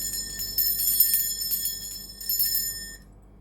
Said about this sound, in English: I'm going to be ringing this bell. This is just to cleanse the space around us.